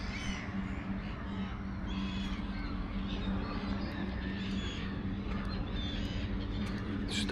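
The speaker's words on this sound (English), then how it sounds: "Look at all the birds." A large flock of crows caws and squawks steadily over a constant background rumble, the harsh calls overlapping at moderate distance.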